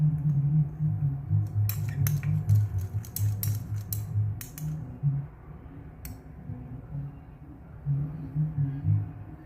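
Stirring a baking soda electrolysis solution makes quick clusters of light ticks and taps against its container, bunched early and then sparse, over a low steady hum.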